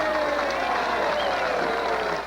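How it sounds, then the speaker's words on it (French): An audience applauding loudly and steadily, a dense wash of clapping and crowd noise that holds throughout and tapers slightly at the end. "Applaudissez bien fort celui qui a coécrit ce morceau"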